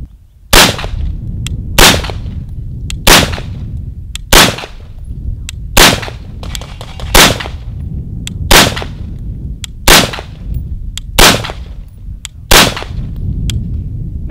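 Rifle gunfire from a 5.56 rifle fitted with a Troy Medieval muzzle device, firing American Eagle ammo: about eleven loud, sharp, evenly spaced shots roughly a second apart, each a crack with a short echoing tail, no talking.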